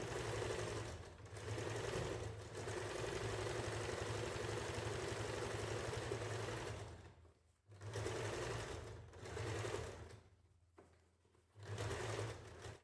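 A sewing machine stitches binding around the neck of a princess blouse, running in steady loud bursts close by, stopping and restarting several times with short pauses between runs.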